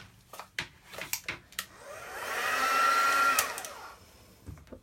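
A heat tool blows with a steady airy whine that rises in, holds for a couple of seconds, then cuts off, surrounded by light clicks and handling sounds during watercolour card making.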